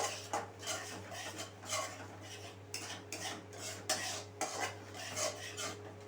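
Spices, including Kashmiri red chili powder, being stirred and sautéed in a pan for veg Kolhapuri, with repeated scraping and clinking of a spoon against the metal pan over a steady low hum, no talking.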